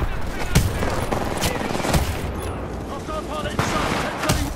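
Gunfire in the video game Titanfall 2, with sharp repeated shots spaced through the clip over a dense, continuous battle din, and voices faintly mixed in.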